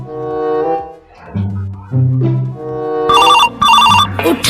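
An incoming-call phone ringtone chirps loudly in repeated bursts near the end, following a stretch of tonal background music.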